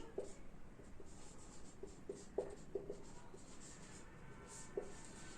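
Chalk or marker strokes on a board while solving linear equations in a classroom lesson, heard as faint, irregular taps and scratches over a low room hiss with no talking.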